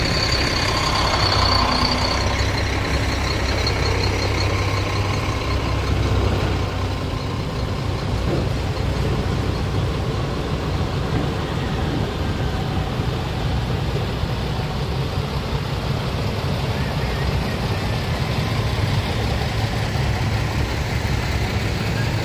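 Heavy, slow-moving traffic on a highway in Ragay, Camarines Sur: a continuous low rumble of idling trucks and engines that stays steady and dense throughout, with no talking.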